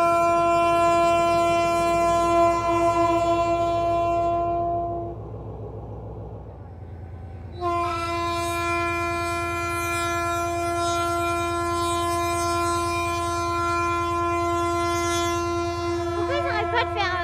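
A long passenger train on the Tren a las Nubes line crossing a bridge near San Antonio de los Cobres, sounding sustained, loud horn blasts with a brief pause, over a continuous low rumble of wagons on the span.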